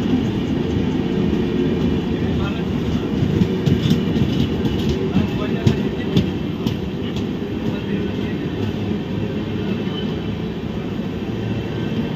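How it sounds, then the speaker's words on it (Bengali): The Jammu Tawi Humsafar Express pulls out of Gomoh station with a steady low rumble and rolling rail noise, faint clicks rising over it, and people talking at the platform. "জম্মু তাওয়াই হামসাফার এক্সপ্রেসটাও ছেড়ে দিল"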